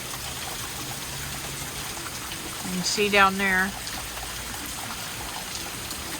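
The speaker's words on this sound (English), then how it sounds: "we're finally getting a little bit of rain out here" Steady rain falls outside a house, a continuous soft hiss heard from the doorway throughout, while someone speaks briefly partway through.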